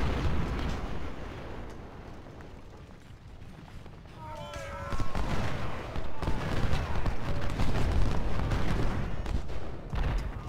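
Civil War cannon fire in Ultimate General Civil War comes as deep booms and rumbling blasts swelling in the latter half of the battle, with a voice talking over the din.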